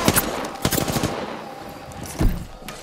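Rapid bursts of video game gunfire crack out in a quick cluster near the start, then a few scattered shots follow over a noisy battle backdrop, closing with one heavier blast.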